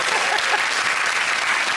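Studio audience at a television comedy chat show breaks into loud, dense, continuous applause that fills the whole moment without a break.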